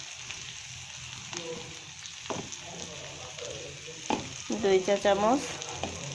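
Spices and dried fish fry in a pan with an intermittent sizzle and stirring scrapes, fairly quiet, with someone speaking over the cooking.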